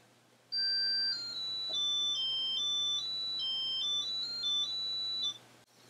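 A loud electronic ringtone from a Chipolo tracker tag plays a bright, stepping melody of pure beeping tones for several seconds, then cuts off abruptly.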